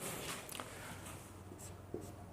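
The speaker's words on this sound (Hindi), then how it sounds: "तो ये पॉइंट अपन यहाँ लिखेंगे।" A point is being written down by hand during a physics lecture, with soft scratchy strokes in short bursts that stay faint and close, and no talk.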